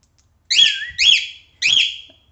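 A pet cockatiel whistles three clear, rising-and-falling calls in a row, each about half a second long, close and loud with short gaps between and no talking.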